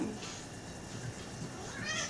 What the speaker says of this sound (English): Sorry, that's my cat. He's in here.